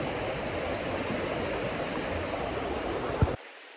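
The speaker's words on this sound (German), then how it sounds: "Der Fluss ist ziemlich laut" A loud mountain river at the far end of the world near Ushuaia, steady broadband rushing of water that fills the scene for over three seconds before cutting away abruptly, with no voices heard.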